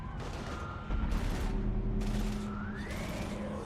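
Heavy gunfire in Mass Effect 3 during a fight against Husks: loud, dense bursts of shots that repeat in quick volleys throughout, with a low rumble underneath and no voices.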